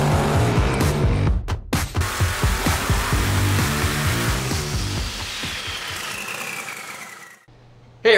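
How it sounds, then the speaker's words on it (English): Nitrous blow-through carbureted engine running on a dyno, roaring loud and close at high revs with a rough, pulsing edge, then winding down and cutting off abruptly near the end. "so we're here dynoing a nitrous engine conversion for Guy Thomas down in Alabama"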